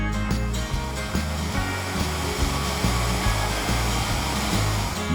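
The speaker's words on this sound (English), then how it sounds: "use your router with the guide bushing to begin boring as many holes as possible" A router fitted with a guide bushing bores holes through a clamped hole-boring template. It makes a continuous loud motor whine with a rhythmic low pulsing underneath, and no one speaks.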